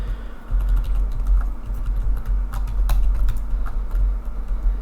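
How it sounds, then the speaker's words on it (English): Frantic computer keyboard clattering during a fight in the online game Lord of the Rings Online, with rapid uneven keystrokes over a low steady hum, close and fairly loud. "You'll probably hear me clattering on the keyboard, a little bit frantic that fight"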